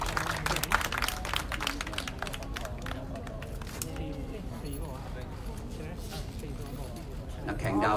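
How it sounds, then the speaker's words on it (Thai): Crowd applause at a Thai sports press event promoting the Thai MotoGP, a steady wash of clapping beneath an announcer's continuous talk and murmuring voices. "ขอเสียงปรบมือให้คุณธนุเกียรติจันชุมครับ"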